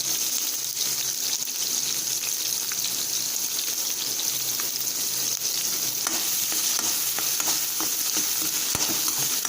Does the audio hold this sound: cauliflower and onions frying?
yes